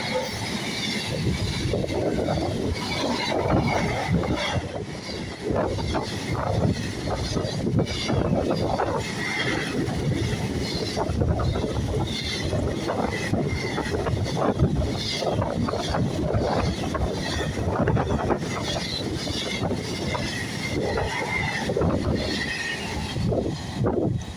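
Class 66 diesel freight locomotive 66152 hauling a Felixstowe to Wakefield freight through Stowmarket, a steady loud engine thrash and rumble of wagons sustained throughout without pause.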